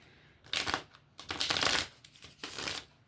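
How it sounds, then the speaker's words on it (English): Rider-Waite tarot cards shuffled by hand in three quick riffling bursts, soft and close, with short pauses between them. "I'll go ahead and give it a few shuffles for you"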